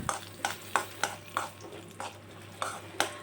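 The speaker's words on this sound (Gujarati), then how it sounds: "બે ચમચી જેટલી બદામ ને બે ચમચી જેટલા પિસ્તા હવે એને આપણે શેકી લેશું ઘીમાં" Almonds and pistachios roasting in ghee in a pan, stirred with a spoon that scrapes and clinks in a regular rhythm, about nine strokes over faint sizzling, close up with no voices.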